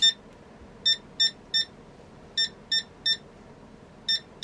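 Short electronic memory-error beeps from an ACT 386sx portable computer with missing memory, in irregular groups of two and three, sharp and clear over a low background hum, about nine in all.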